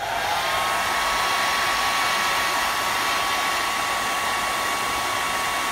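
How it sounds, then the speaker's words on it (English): A hair dryer runs steadily on low heat over watercolor paper, a continuous close, loud airy whir with no pauses and no voices. "I'm bringing just a little bit of the hair dryer heat to dry the paper."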